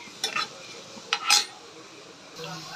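Onions and curry leaves with whole spices being sautéed for mutton kolambu, a soft background sizzle punctuated by a few quick scrapes of a spoon against the pan, close and fairly quiet.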